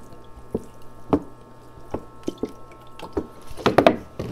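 Water dribbled onto the soil of a potted plant, heard as scattered close drips and soft wet splashes at irregular intervals, growing denser toward the end, with no talking.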